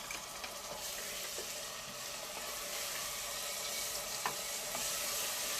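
Onion, green chillies and ginger-garlic paste sizzle steadily in a hot pan for chana dal with onion, with scraping stir strokes and small clinks over a constant frying hiss, close and moderately loud, no talking.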